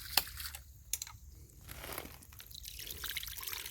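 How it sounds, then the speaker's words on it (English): A homemade water ram pump drives irrigation water up a pipe toward an elderberry field, giving a steady trickling, splashing flow with a couple of sharp knocks near the start, heard close and alone. "So it pushes water, compresses it up here, then this one shuts and forces water up this pipe up to the elderberry field."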